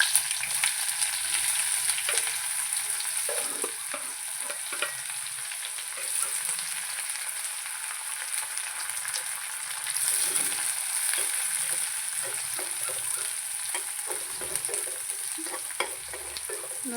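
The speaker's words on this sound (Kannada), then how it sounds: "ಆಮೇಲೆ ಈರುಳ್ಳಿ ಹಾಕಿ" Sliced onions frying in a pan for Maggi noodles, a steady close sizzle with occasional scraping stirs throughout, no talking.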